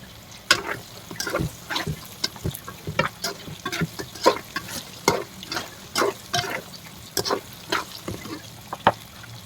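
Fish pickle sizzling in a pan with homemade spice powder, close crackling and frying broken by frequent scraping stir strokes at an uneven rhythm, with no talking.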